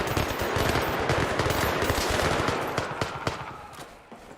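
Automatic turret gunfire in the shooter game Zero Caliber, rapid continuous bursts of loud shots filling the whole stretch, tapering slightly near the end with a few separated cracks.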